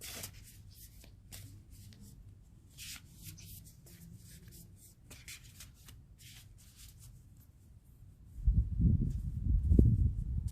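A deck of tarot cards is shuffled by hand, soft repeated riffling and sliding flutters at close range, followed by a louder rustling burst near the end, with no talk.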